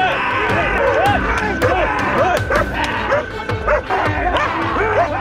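Belgian Malinois dog giving repeated barks and yips in a steady rhythm, close and loud, over background voices or crowd noise.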